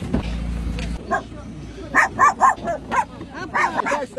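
A dog barks in a short series of sharp yips and woofs, fairly close, following a brief low rumble at the start, during an evacuation in Kindiika, Kherson, Ukraine.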